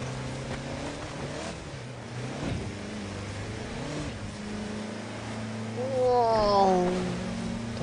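A diesel car in Forza Horizon 4 revs after an early upshift, its engine note climbing steadily and rising to a loud, strained peak near the end, with no talk over it.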